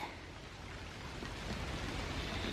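Steady moderate rain falls outdoors as an even, continuous hiss that swells slightly toward the end, with no voices.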